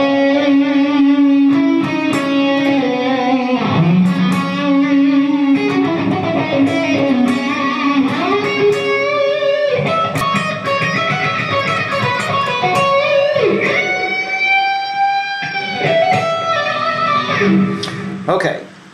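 An electric guitar plays a lead solo, with sliding, bending melodic lines and sustained notes over a lightly overdriven tone, played alone.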